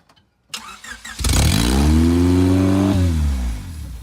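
A Honda Civic engine cranks and fires after a brief silence, then roars up into a loud, sustained rev that climbs, dips and settles into a steady drone while the car sits in gear; nobody speaks.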